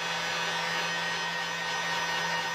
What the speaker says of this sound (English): a heat gun, right here. So I'm gonna heat this up.